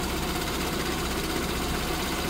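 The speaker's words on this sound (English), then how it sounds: "So the car has been running for a bit now. You can see the idles are starting to drop down." A car engine with coolant flow problems idles while warming up, a steady, even mechanical hum with a faint rhythmic pulse, continuous and close with no talking.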